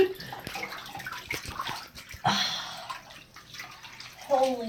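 Hot water splashes and sloshes in a filled bathtub, close and intermittent, with drips and small swirls while a person speaks and vocalizes briefly.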